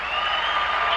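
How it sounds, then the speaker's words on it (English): A brief, loud burst of audience applause, a steady dense wash of clapping lasting about a second with no pause. "Round of applause."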